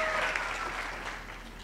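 Applause from a graduation ceremony audience, a broad wash of clapping heard briefly and at moderate distance, fading slightly as a tone trails off near the start.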